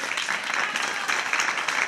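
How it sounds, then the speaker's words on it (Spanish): Audience applause for the musicians at a Spanish-language event, a steady, dense burst of clapping heard close and alone for about two seconds. "Un aplauso, por favor."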